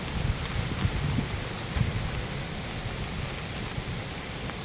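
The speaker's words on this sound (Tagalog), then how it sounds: "Grabe ang hangin guys" Strong gusting wind during a rainy morning storm buffets the microphone in a low, steady rumble with brief louder gusts throughout; no one speaks.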